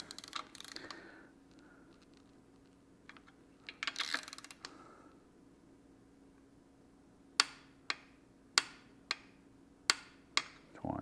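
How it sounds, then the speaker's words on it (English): A torque wrench set to 24 foot-pounds tightens bolts on a 428 Cobra Jet long block, giving a run of sharp, close, evenly spaced clicks in its second half after softer scattered ratcheting and handling noises. "So we'll set our torque wrench to 24."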